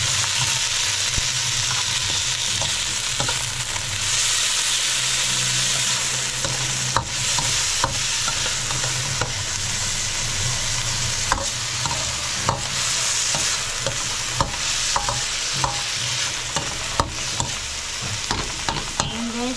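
Onions and tomatoes sautéing in hot, splattering oil for beef sinigang; a loud, continuous sizzle with sharp pops and stirring scrapes throughout, close and unbroken.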